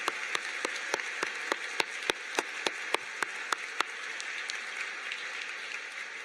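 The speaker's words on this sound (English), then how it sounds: "So a round of applause for just everyone who made this a fabulous afternoon" A small gathering claps at a medical school white coat ceremony, the sharp separate claps landing in a loose irregular rhythm for a few seconds before fading into a soft room hum.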